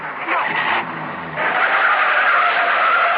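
A car skidding as a sound effect in an old radio program: a loud, sustained tire screech with engine roar, lasting several seconds without talk.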